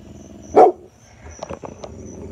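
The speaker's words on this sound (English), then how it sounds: "She's growling behind me." A female dog growls close by in a home at night, one short loud burst rising into a bark-like rasp, then quieter scattered rumbles and clicks.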